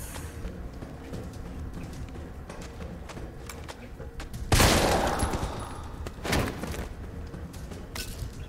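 Gunshots in Resident Evil 3, two loud separated blasts, the first a long booming burst and the second shorter, over a low steady game background.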